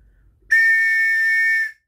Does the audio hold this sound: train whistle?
yes